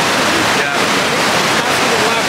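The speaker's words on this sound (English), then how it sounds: "I can't even hear what I'm saying right now because it's so windy." Strong wind roars against the microphone beside splashing water in a shallow area, a constant loud hiss with brief dips, while people speak faintly underneath.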